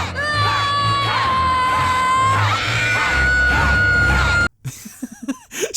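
Cartoon characters from the animated series Amphibia scream loudly over one another, shrill overlapping voices sustained for several seconds amid a noisy bustle, then cutting abruptly to near silence with a few brief, fainter vocal bursts.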